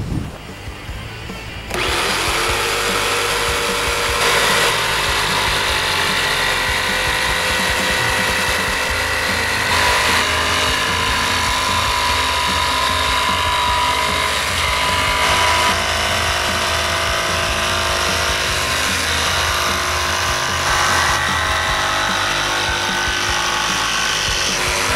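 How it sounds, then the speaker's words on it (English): A Rockwell Bladerunner X2 set up as an upside-down jigsaw cuts a half-moon out of a circle, a loud close motor whine with a rapid reciprocating blade chatter that starts after a brief pause and runs steadily throughout. "now we can use it as an upside down jigsaw to make the half moon shape out of the circle"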